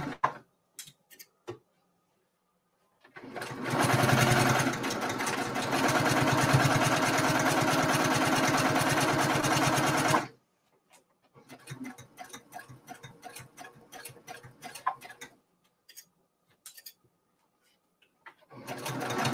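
A sewing machine stitches a table runner in a loud, continuous whirring run of about seven seconds, framed before and after by sparse clicks and ticking handling noises, with no speech.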